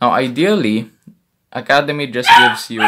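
Dogs bark and yip nearby in short bursts, mixed in with someone talking.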